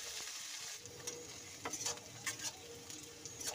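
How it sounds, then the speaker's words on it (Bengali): Carrots and beans fry in oil in a kadai, a soft continuous sizzle with intermittent scraping stir strokes close by. "ওই তেলের মধ্যেই আমি বাকি সবজিগুলোকে দিয়ে দিচ্ছি"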